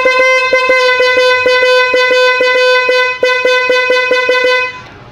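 A motorcycle horn honks in a rapid series of short, bright beeps, loud and close, with no talking.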